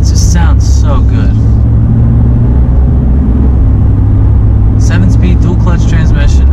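A 2015 BMW M3 engine runs in sport mode with a loud, close, steady rumble, while a person talks over it at the start and again near the end.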